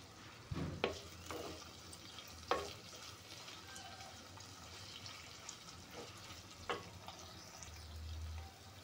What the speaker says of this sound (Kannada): ಸ್ವಲ್ಪ ಫ್ರೈ ಆಗಲಿ ಈರುಳ್ಳಿ